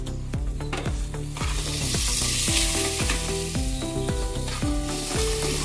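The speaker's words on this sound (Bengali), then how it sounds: "ভালো করে ভেজে নেব টমেটো দিয়ে।" Chopped tomato fries with ginger and cumin paste in a pan, a bright sizzle running beneath a loud, rhythmic melody of pitched musical notes.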